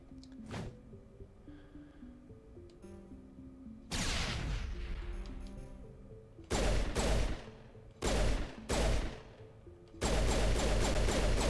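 Gunfire in Mass Effect Legendary Edition's Eden Prime mission comes in loud, sustained automatic bursts separated by short gaps, with heavy booming impacts, following a quieter stretch of game ambience and scattered single shots.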